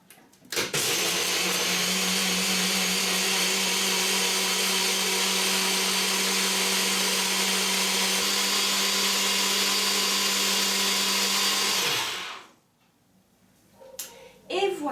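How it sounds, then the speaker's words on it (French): BioChef blender whirring steadily through a smoothie, a loud sustained motor drone running about twelve seconds before spinning down, followed by faint clatter. "on n'a plus qu'à mixer avec notre BioChef"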